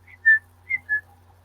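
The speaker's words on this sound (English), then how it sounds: "I've just heard the whistle go." A clear whistle sounds as a few short, tonal chirps, one strong blast followed by two quicker notes, isolated against a quiet background hum.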